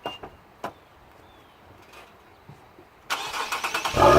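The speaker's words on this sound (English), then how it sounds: "I'm going to start it up and rev it up now that I'm not in my yard." An Infiniti Q50 with a resonator delete and other modifications, a few faint clicks and taps, then the engine cranks and catches at about three seconds and quickly rises into loud, pulsing revs close by.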